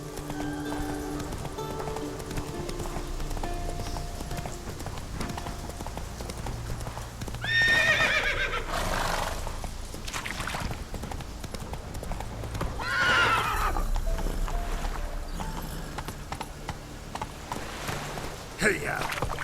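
Horse hooves clip-clop at a gallop through The Witcher III, steady and close under game music and ambience, with two loud neighs breaking through partway along.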